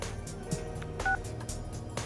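A phone call comes in during the video game Persona 4, heard as short electronic tone beeps in a brief sequence over quiet game background sound.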